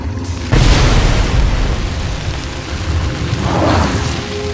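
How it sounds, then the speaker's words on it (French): A grenade explosion in the Star Wars: The Old Republic game hits as a sudden loud boom, followed by rumbling blast debris and a second swelling burst a few seconds later. "Allez, petite grenade."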